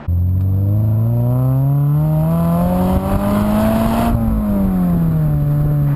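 Toyota 86 fitted with a brand-new Thermal R&D exhaust revving loudly and close, its engine note climbing steadily over about four seconds before easing back down, steady and without talk.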